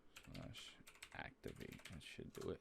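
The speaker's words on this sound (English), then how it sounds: "Sorry if you guys hear the typing in the background." Clicky keystrokes on a mechanical keyboard during Django project setup on a PC, a rapid irregular patter close by, heard under someone talking.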